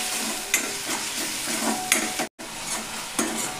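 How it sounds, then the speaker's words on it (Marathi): Chopped tomato sizzling in hot oil in a pan for a Marathi drumstick fry, with a steady frying hiss and periodic scraping stirs of a spoon, close and alone. "तर टोमॅटो पण छान तेलावर परतून घ्यायचा।"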